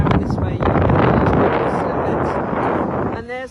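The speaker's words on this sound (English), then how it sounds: "I'm sure you can hear it's quite windy" Strong wind at a beach buffets the microphone in a loud, continuous roar that fades near the end.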